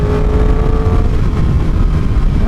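Yamaha R1 sportbike cruising down a highway, heard as a loud, steady engine hum mixed with wind rush from on board, with no speech.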